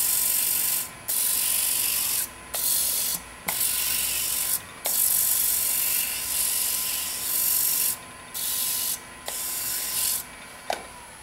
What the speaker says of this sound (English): I like to do a little sanding.